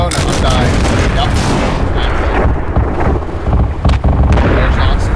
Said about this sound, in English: There's lots and lots of rockets flying over there. And shotguns and cannons.